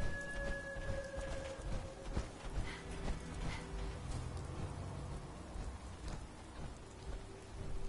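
Steady rain patters across surfaces in the Fallout video game, with low rumbles of thunder rolling underneath and a few faint tonal game sounds drifting in and out, fairly quiet overall.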